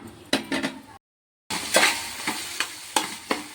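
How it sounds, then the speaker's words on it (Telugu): Tomato and carrot pieces sautéing for wheat rava upma, sizzling with repeated sharp spatula scrapes and clinks against the pan, broken by a second of silence, no talk. "టమాటో ముక్కలు, క్యారెట్ ముక్కలు అయితే మంచిగా మగ్గిపోతున్నాయండి"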